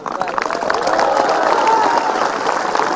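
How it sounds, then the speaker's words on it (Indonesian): An audience at an Indonesian religious lecture claps and cheers, a dense, loud patter of applause and crowd noise filling the whole moment without a break. "Tengok orang ini ragu-ragu tepuk tangan."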